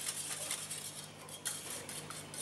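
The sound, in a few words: beating eggs with vanilla in a bowl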